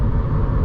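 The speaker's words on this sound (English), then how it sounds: "It's mostly tire noise because of the" Road roar from a 2022 VW Up GTI with its 1.0 TSI engine, mostly tyre noise on rougher asphalt heard from inside the car, a steady dense rumble throughout.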